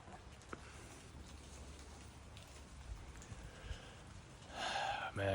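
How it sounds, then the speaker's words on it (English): Light rain patters steadily, a soft continuous hiss of drops falling outdoors, with a brief louder rustle near the end. "just gonna stand in the rain"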